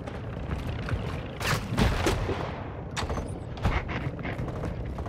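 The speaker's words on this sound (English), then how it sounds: "Friendly mortar strike on the way." A mortar strike in the video game Call of Duty lands as a series of loud booming blasts and crackling bursts, spaced irregularly over a rumbling battlefield background.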